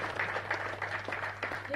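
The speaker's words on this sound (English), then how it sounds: "Let's give a round of applause for this great work which we have initiated." An audience claps in a round of applause at a bank's mobile app launch ceremony: a soft, fairly distant patter over a low hum, with some voices mixed in.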